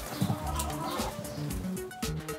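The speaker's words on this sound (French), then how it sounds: "Là, il y a les 4 poules." Four hens cluck in short, irregular bursts, close by and moderately loud, with no voices over them.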